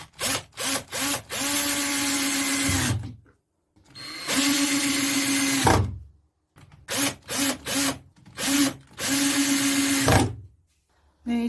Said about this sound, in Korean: 요 옆면에다가 피스로 고정시켜 주시면 돼요.